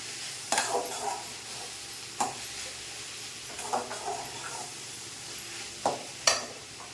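Ponnanganni greens frying with grated coconut are stirred in a pan, giving a soft steady sizzle broken by several sharp scraping strokes of the spoon, spaced irregularly and fairly close.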